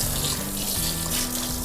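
Tap water runs steadily over raw pork fat being washed in a kitchen sink before rendering it into lard, a close, constant splashing rush with no speech.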